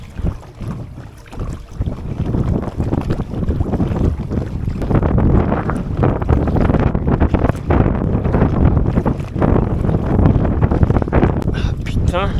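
Strong headwind buffets the microphone outdoors, a loud continuous roar with gusty swells across the whole stretch, while a person speaks under it.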